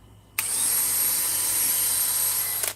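A power drill in regular (non-hammer) mode boring a hole, a loud, steady high whine that starts abruptly, holds evenly for over two seconds and then stops.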